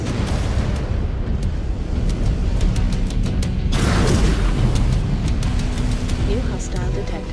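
Missiles explode in MechWarrior 5: Clans in a constant loud barrage of rumbling blasts, with a fresh heavy impact partway through, all under voices and ongoing battle noise.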